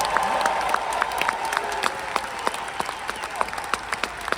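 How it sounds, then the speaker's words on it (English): An audience claps its hands together in a sustained burst of applause, many overlapping claps forming a dense, steady wash with a few sharper individual claps standing out near and loud. "clap your hands like you want a miracle mentality"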